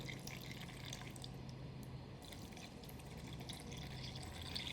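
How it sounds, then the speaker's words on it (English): Water flowing out of a pipette driven by a pipette pump during a classroom demonstration, a steady soft trickle and drip lasting throughout, close and fairly quiet against a low background hum. "And I press it, and then the water"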